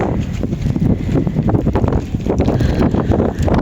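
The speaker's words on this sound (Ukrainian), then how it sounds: "Вітер такий скажений цілий день дув." Strong, gusty wind blowing outdoors and buffeting the microphone with loud, rumbling low-frequency roar throughout, no voices.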